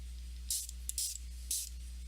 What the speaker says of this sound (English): I just want to spray a little bit more.